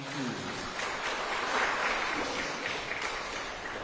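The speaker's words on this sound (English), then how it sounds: "Ladies and gentlemen, how about a round of applause for our round 2?" Audience applause at a live school speaking competition, a steady wash of clapping that swells near the middle and holds at moderate loudness with some crowd noise mixed in.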